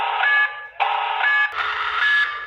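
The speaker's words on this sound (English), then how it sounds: "a DIY security system that will sound an alarm from various places" An Aqara DIY home security system sounds its alarm, a loud electronic siren pulsing in repeated tonal bursts with brief gaps between them.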